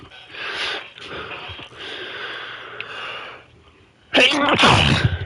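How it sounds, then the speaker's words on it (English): A loud, close sneeze bursts out at the end, preceded by sniffling and heavy breathy sounds. "I'm gonna sneeze myself to death."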